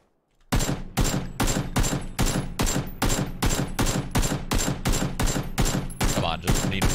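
AK rifle fire in PUBG rattles out in rapid, evenly spaced sharp shots, a loud sustained burst of automatic gunfire that starts abruptly after a brief silence and continues steadily to the end.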